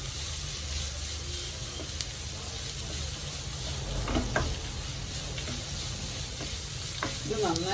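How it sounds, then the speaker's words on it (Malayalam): Onions sauté in a pan for a potato roast, a steady loud sizzle with occasional scrapes and clicks from stirring, and no talking. "സവാള നന്നായിട്ട് വഴണ്ടിട്ടുണ്ട്"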